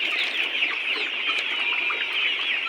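Layer chicken pullets on a poultry farm, a dense flock clucking and chattering continuously at close range, with no talk over them.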